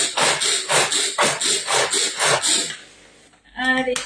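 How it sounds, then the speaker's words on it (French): A pull-string manual food chopper being worked for a croque burger, giving about nine rhythmic rasping strokes, close and loud, then a pause and a brief clatter at the end. "plus vous tirez sur la ficelle, plus ça va hacher."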